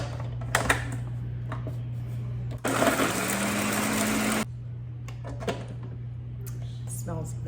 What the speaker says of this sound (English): Now this is going to get pretty noisy, so I will cut this as it's blending